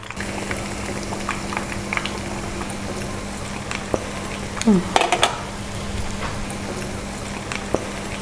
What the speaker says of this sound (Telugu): ఇప్పుడు ఈ మిగిలిన బిస్కెట్స్ని కూడా మనం అన్నిటినీ ఇలా ఆయిల్లోకి వేసేసుకుని బాగా ఫ్రై చేసేసుకుందాము